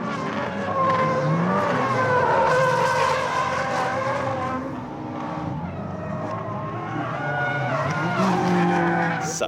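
A drift car sweeps around a banked turn with a sustained tire squeal and skidding whine layered over a steady engine roar, loud and close throughout, with occasional talk underneath.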